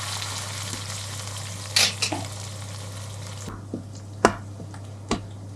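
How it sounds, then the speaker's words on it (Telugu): Tempering (talimpu) of onions frying in oil for spinach dal, a steady close sizzle throughout with a few brief clinks and stirring knocks, no talking. "ఈ తాలింపు ఇలా వేగుతూ ఉంటుంది కదండి"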